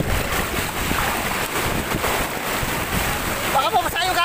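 Rough water slaps and churns near a small boat in the Bicol province, mixed with gusting wind over the microphone in a continuous, fairly loud wash.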